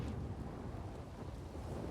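Steady rain with low rumbling thunder in a video game, a continuous dense wash of noise with no voices, holding evenly throughout.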